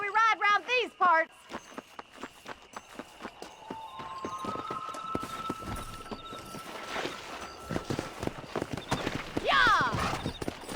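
Galloping horse hooves in the video game Red Dead Redemption, a rhythmic clip-clop that builds from a few distinct hoofbeats into a fast, steady run, with a neigh near the start and voices and game sounds mixed in.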